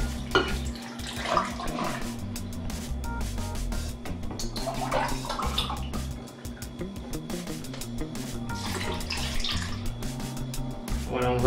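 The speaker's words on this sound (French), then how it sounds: "Donc là on va mettre 2 belles tasses de lait." Milk pouring steadily into a bowl for homemade avocado ice cream, a continuous liquid splash and trickle running close by for several seconds without a break.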